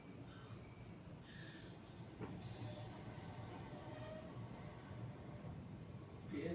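PNR commuter train passing at night near residences, a distant steady rumble of rail wheels with faint squeals, low and continuous under quiet surroundings.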